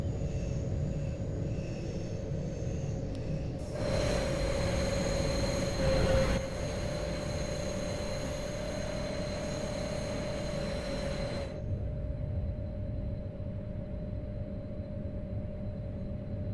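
A locomotive in the train game Train Sim World 4 rumbles steadily with a low engine drone and a sustained tonal whine, and a brighter rolling layer joins the middle stretch, all without speech.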